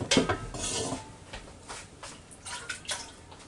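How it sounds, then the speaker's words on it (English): Cooking pot holding liquid lifted and handled in a kitchen, with a loud clatter of metal against metal up front, then lighter clinks, scrapes and a brief slosh trailing off. "Now we'll take this pot with this liquid in it,"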